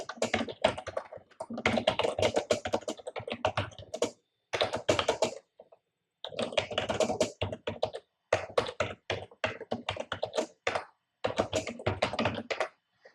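Rapid keystrokes on a computer keyboard while code is entered, coming in dense bursts of clicks separated by short pauses, close and fairly loud with no talking.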